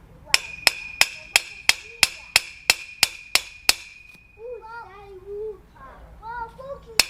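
A hammer knocks trampoline parts together during assembly, a run of eleven sharp, evenly spaced metallic strikes with a ringing tone, then a voice and an adult talking after the hammering stops.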